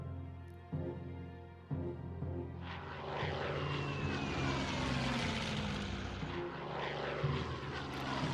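Air force planes attacking in the strategy wargame Hex of Steel, set in North Africa: two sharp thuds, then a loud propeller engine roar that builds and sustains with a passing whine.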